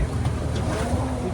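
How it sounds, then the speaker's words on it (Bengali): A speedboat engine roars steadily on a tour near Maya Bay in the Phi Phi Islands, Thailand, a close, loud, low drone mixed with wind and water rush over a brief span. "এই বোট যে স্পিডে আসছিল সেরকমই গাঁ গাঁ করে ছুটতে ছুটতে হঠাৎই একটু স্পিডটা কমালো"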